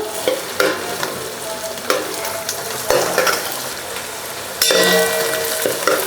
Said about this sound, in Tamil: பூண்டு வந்து 2 நிமிஷம் வதக்கிட்டுங்க.